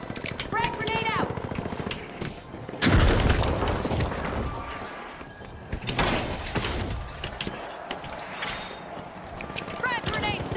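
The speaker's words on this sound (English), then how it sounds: "Frag grenade out." Frag grenade blowing up in a video game, one heavy boom near the three-second mark that decays into rumble, surrounded by gunfire, clatter and a speaking voice.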